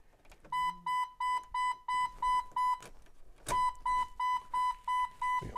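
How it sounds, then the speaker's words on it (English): Headlight-on warning beeper in an old Jeep, a rapid string of evenly spaced electronic beeps that pauses briefly and resumes, close and clear inside the cab. "That's a headlight warning. Headlights on. Beeper."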